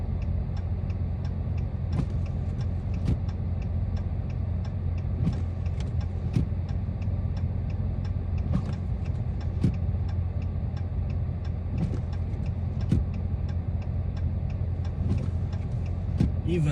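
A 2022 Dodge Charger Scat Pack Widebody drives through a blizzard, its steady engine and road drone filling the cabin with a constant low hum, while sharp ticking clicks repeat at irregular intervals over it.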